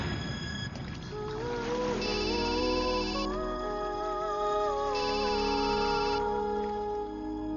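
A phone rings in a Telugu comedy film scene, two repeated electronic ringtone bursts with a melodic tone layered over background music, fairly loud and close, with no talking.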